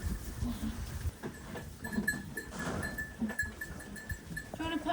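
Goats bleat on a Portuguese goat farm, with several animals calling under steady farmyard noise while people talk nearby.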